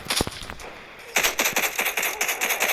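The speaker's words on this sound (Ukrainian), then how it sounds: "Є, вона стріляє, тепер треба втікти." Rapid bursts of automatic gunfire in the Roblox game Zombie Uprising, sharp repeated cracks in quick rhythm, loud and close, with a brief pause before the sustained volley.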